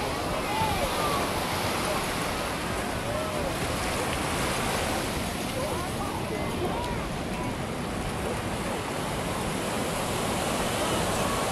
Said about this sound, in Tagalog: Pinapaalis na po yung mga nagsiswimming dahil malakas na din po yung alon.